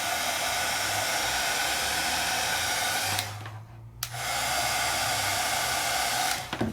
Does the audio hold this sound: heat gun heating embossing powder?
yes